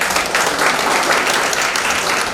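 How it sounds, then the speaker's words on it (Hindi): Steady audience applause at a college Hindi-language fortnight closing ceremony after a poem recital, dense even clapping from a crowd in a hall, loud and continuous throughout. "ताली बजाओ।"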